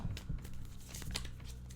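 A deck of tarot cards being shuffled gives quick papery riffles and soft crinkling flicks in short bursts, close and fairly quiet, with no talking.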